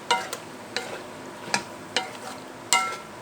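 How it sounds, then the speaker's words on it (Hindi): Chicken and vegetable macaroni with garlic sauce is stirred in a pan, giving a soft sizzle under several sharp scrapes and clinks of a utensil at irregular intervals, close and with no talking. "अच्छी तरीके से मिक्स कर लेते हैं।"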